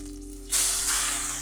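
A sudden loud hiss erupts as a piece of fish is laid into a hot pan, the sharp spray-like sizzle starting abruptly and holding steady alone.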